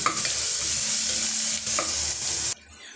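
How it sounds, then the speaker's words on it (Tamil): Curry leaves sauté in a hot pan for crab soup, producing a loud close sizzle with a couple of quick stirring scrapes, which then cuts off sharply near the end. "சேர்த்துட்டு இந்த பச்சை வாடை போகிற வரைக்கும் நம்ம வதக்கி விட்டுக்கலாம்"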